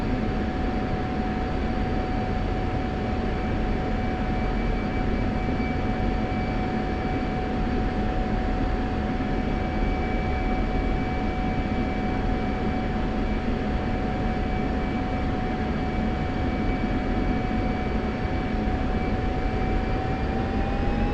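A jet aircraft in a combat flight sim, on a night training flight over Syria, begins its takeoff roll with afterburner, its roar a loud, steady drone with a thin rising whine held throughout.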